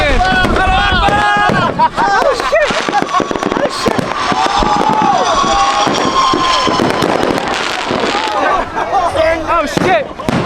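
Dense, loud Fourth of July fireworks barrage close by: continuous bangs, crackles and whistling rockets overlapping with no pause, with excited voices shouting underneath.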